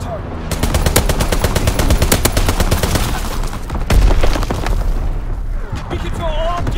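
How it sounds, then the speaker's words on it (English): Dense, loud automatic gunfire during a Call of Duty: WWII domination match on the Shipment 1944 map, with a fighter pilot strafing run among rapid overlapping shots, heavy booms and battle noise, with voices calling out through the din. "Fighter pilot inbound. Strafing the target."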